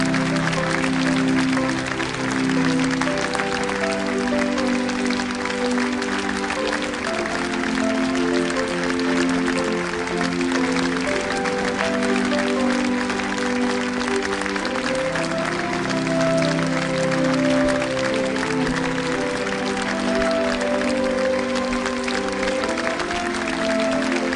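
An audience gives loud applause as a couple is welcomed on stage at an event, heard under steady music with sustained tones throughout.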